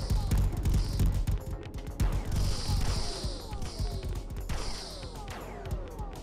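In a sandbox space game, a lock-on turret on a spaceship fires loud, rapid bursts of shots close by, with crashing impacts and metallic clatter between volleys.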